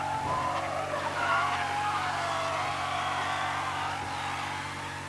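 A car driving in rain in Mafia: Definitive Edition, with a steady engine drone and tyre hiss on the wet road, some squealing overtones, held loud and continuous throughout.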